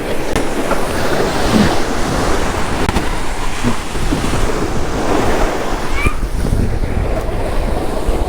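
Sea waves roll onto a quiet beach at Porac, Botolan, Zambales, a continuous loud wash of surf mixed with gusty wind buffeting the microphone.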